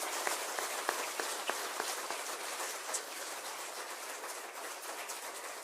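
A conference audience applauds in a hall after a keynote address, a dense continuous patter of many hands clapping at a fairly even level, somewhat distant, with no speech over it.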